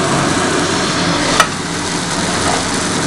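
Egg batter for gola roti spread with a spoon across a hot pan gives a steady loud sizzling hiss, with one brief sharp click partway through and no talking.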